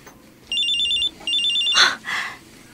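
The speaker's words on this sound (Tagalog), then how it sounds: "Sino kaya itong tumatawag?" Mobile phone ringing with an incoming call: two bursts of bright electronic trilling ringtone with a short gap between them, followed by a couple of brief rustling handling sounds, with no talk.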